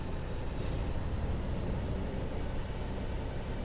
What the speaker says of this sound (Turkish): Birazcık sesli gidelim değil mi? Otobüs sesini duyalım.